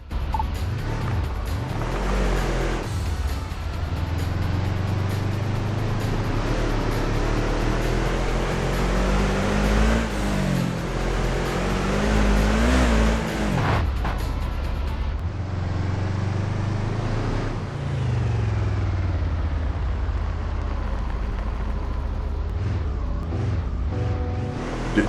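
A four-wheel-drive off-road vehicle with an open differential driving in Overpass 2, its engine droning steadily throughout, rising and falling in pitch as it revs, loud and close with no talk.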